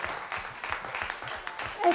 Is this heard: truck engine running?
no